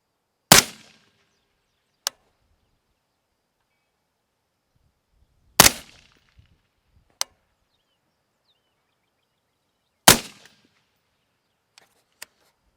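Rifle shots ring out at long-range targets near 950 yards: three loud, sharp cracks spaced about five seconds apart, each trailed by fainter distant impact ticks, with silence between.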